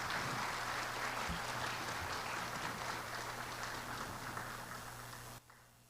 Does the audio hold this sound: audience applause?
yes